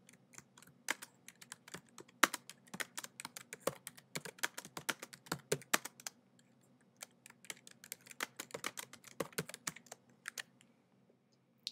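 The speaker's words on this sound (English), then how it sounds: "I'm going to type in my reminder." Fingers tapping out a short note on a computer keyboard, a quiet, close run of quick irregular clicks with brief pauses between bursts and no voices.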